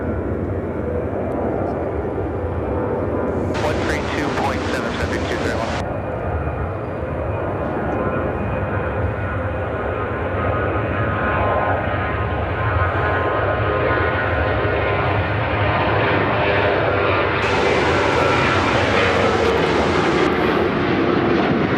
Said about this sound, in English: This is United Airlines 2659 taking off to Washington Reagan National on the 737-700